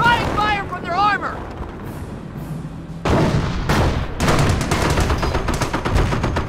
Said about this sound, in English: We're drawing fire from their armor!